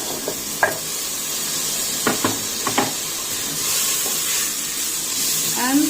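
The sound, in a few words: tomatoes sizzling as they are added and sauteed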